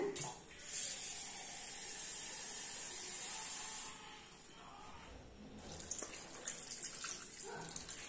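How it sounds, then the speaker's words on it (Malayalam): Water pours into a cooking pot while chicken soup is being made, a steady hissing splash that runs loud for about three seconds, then gives way to quieter clinking and movement. "ഇനി ഇതിനകത്തേക്ക് ഞാൻ വെള്ളം ഒഴിച്ചു കൊടുക്കുവാണ്"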